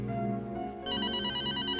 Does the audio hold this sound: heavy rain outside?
no